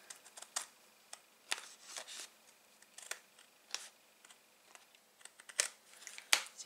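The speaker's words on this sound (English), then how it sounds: "I'm going to trim that because it's got a bit of overkill on the bottom" Scissors snip through card stock while a Z-fold box Christmas card is being trimmed, with a run of sharp, close, quiet cuts and clicks in an uneven rhythm and no talking.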